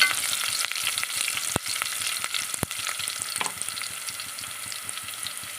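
Onions and curry leaves frying in a pan as the tempering for moong dal pongal, a steady bright sizzle with occasional stirring clicks and scrapes, close and continuous.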